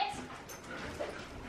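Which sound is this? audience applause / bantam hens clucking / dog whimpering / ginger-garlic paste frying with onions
dog whimpering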